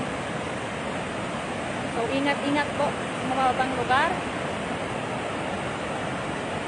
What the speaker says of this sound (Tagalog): Full pa rin yung pagpapakawala ng tubig.